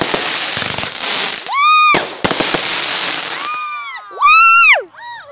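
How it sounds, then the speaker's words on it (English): Fourth of July fireworks burst close overhead in loud crackling volleys, mixed with whistling rising shells and whoops from nearby people. "Coolest fireworks ever!"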